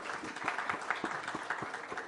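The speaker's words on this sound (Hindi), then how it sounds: "एक बार जोरदार तालियों से उनका अभिनंदन।" An auditorium audience at a health conclave in Jabalpur gives steady, dense applause, a quiet continuous patter of many hands clapping at once, heard from a distance.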